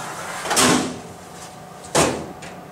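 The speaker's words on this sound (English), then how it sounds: "just close the door and the machine will begin to run through its normal cycle." The door of an Insinger Commander 18-6 commercial dishwasher is pulled down with a loud metallic swoosh, followed a second later by a second sharp clunk as it shuts, close by.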